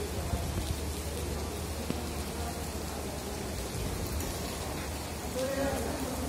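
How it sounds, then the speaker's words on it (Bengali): Heavy rain falls as a dense, steady hiss that never lets up, with a faint hum of insects mixed into the constant downpour. "প্রচন্ড বৃষ্টি হচ্ছে"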